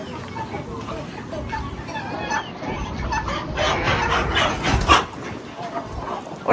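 Chickens cluck at a farm market in an American village while a dog barks nearby, with people talking over the noisy, uneven clucking.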